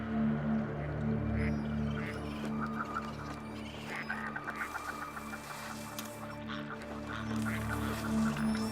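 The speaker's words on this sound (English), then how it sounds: "What makes it even more difficult is that the birds warn each other." A flock of waterfowl call back and forth in a winter setting, with many overlapping honks and quacks rising and falling continuously over a steady outdoor background.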